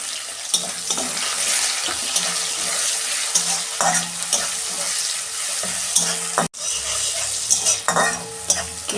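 Sliced onion frying in hot oil with whole cumin and a green chilli, a steady bright sizzle broken by frequent stirring scrapes and clinks of a spatula, close and loud, one brief dropout near the middle.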